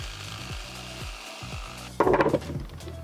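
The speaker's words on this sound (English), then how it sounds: "cutting that out here with the jigsaw" Close, rhythmic rasp of a jigsaw blade cutting through wood siding, steady strokes with a louder, rougher burst of cutting toward the end.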